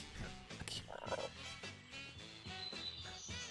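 A toad croaking in the Karmaland video game, a run of repeated croaks heard close amid other game sounds, with voices talking at times.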